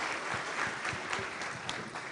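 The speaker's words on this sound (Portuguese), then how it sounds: "uma salva de palmas aí para o Tony Rodrigues" Audience at a web security forum applauds a presenter named Tony Rodrigues as he is introduced, a fairly quiet, even patter of many hands clapping throughout.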